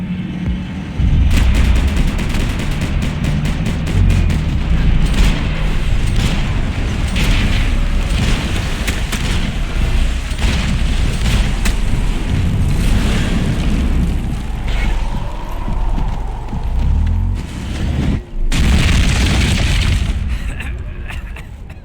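Gunfire from the video game Max Payne 3: sustained heavy shooting and booming impacts packed through the whole stretch, loud and close, with voices shouting amid the firefight.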